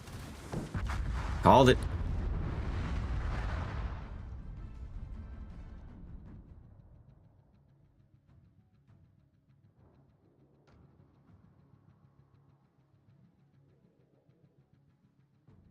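Torpedoes striking a warship in the naval game World of Warships: a loud, booming impact with a sharp crack, then a long rumbling tail that dies away into quiet, with someone speaking briefly over it.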